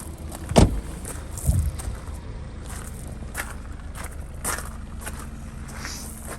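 Opening the tailgate and bonnet of a 70-plate Lincoln MKC 2.0 EcoBoost gives two sharp latch clunks early on, then faint mechanical whirring and light handling noises under quiet ambience.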